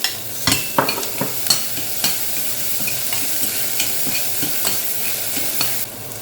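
Ginger sautéing in a hot pan for arroz caldo, a steady bright sizzle with repeated scraping stirs from a utensil at an uneven rhythm, close and fairly loud, with no voices.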